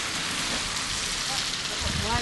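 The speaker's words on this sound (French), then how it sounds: "Il repleut sur l'appareil." Rain falls steadily on a camera outdoors in Québec, a dense close patter spread evenly through the whole stretch with no talk.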